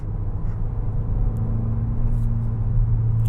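A 2023 Hyundai Elantra N-Line with a 7-speed dual-clutch transmission, in manual mode, accelerates on a highway, giving a steady low engine drone and rumble heard from inside the cabin.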